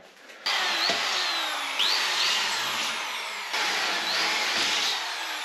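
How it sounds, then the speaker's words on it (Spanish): A power drill whines in repeated bursts while drilling holes for a custom van roof rack, spinning up, easing off and biting again, loud and close with no voices. "Haré unos taladros aquí"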